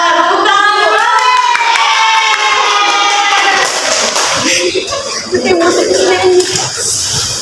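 Hands clap together in a classroom as children's voices chant and call out, a dense, steady burst of clapping mixed with young voices throughout.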